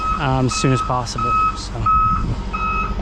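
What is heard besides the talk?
water truck arriving, reversing beeps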